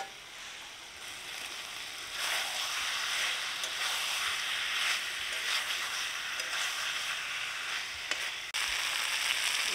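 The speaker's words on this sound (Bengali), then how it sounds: "এবার দিয়ে দেবো ভেজে রাখা আলু" Fried potatoes go into sizzling chicken curry, and a steady, moderately quiet frying hiss follows. It swells after the addition, then ends with a sharp clank near the finish.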